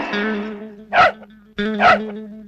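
A dog barks twice, sharp and fairly close, about a second apart, over a low steady hum.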